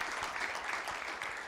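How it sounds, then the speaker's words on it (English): Applause from an audience at a school district board of trustees meeting, steady dense clapping filling the room throughout, fairly distant and uniform. "Yes, please, round of applause for Ellie."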